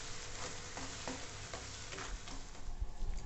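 Bread slices for shahi tukda frying in a pan, a quiet continuous sizzle with light scraping and ticking of a spatula, faint and close, no speech.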